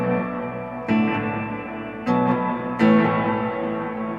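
Electric guitar through two reverb pedals chained in series, three strummed chords ringing out one after another with long, washy tails that overlap and decay smoothly, loud and without talk.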